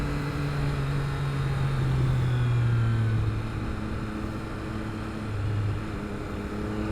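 Triumph Trident 660 inline-three motorcycle engine running through a new aftermarket exhaust muffler, a steady low droning hum at moderate distance with a pitch that rises slightly and then falls back, with no talking.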